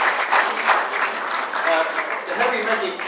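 Audience applause at a radio station launch night, a loud, close burst of clapping from a crowd with a voice talking over it, lasting about three seconds.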